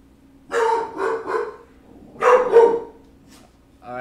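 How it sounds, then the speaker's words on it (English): A single dog barks indoors in two short bursts of several loud yips and woofs, with a brief quiet gap between them and another bark starting at the end. "that's my dog over here"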